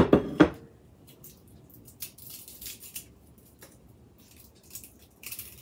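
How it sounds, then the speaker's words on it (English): A few crisp snips at the start as the small ends are cut off homegrown garlic bulbs, followed by quieter handling and light clinks in a kitchen. "I like to cut that little end off of the garlic."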